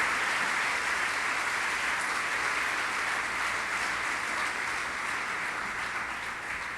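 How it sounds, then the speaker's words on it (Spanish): Sustained applause from a large church congregation, steady and loud throughout without a break. "Démosle un fuerte aplauso al Señor."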